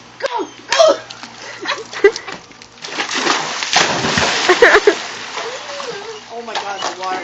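Dogs splash and paddle while swimming after a ball, uneven watery slaps and sloshes heard close by under excited voices and laughter.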